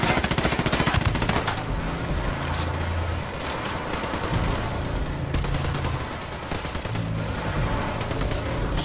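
Sustained automatic gunfire in a firefight, rapid rattling bursts that run almost continuously, loud and close, with a few pauses and no talk over it.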